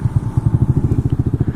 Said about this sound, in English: Let's hear the exhaust. Let's start it up.